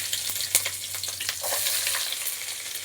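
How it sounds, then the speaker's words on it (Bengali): Chopped onion hits hot oil already seasoned with nigella seeds and dried chili, giving a steady close sizzle with a sharp crackle near the start and light stirring throughout. "এবার এর মধ্যে দিয়ে দেবো পেঁয়াজ কুচি। দেখো, পেঁয়াজ কুচি দিয়ে দিলাম।"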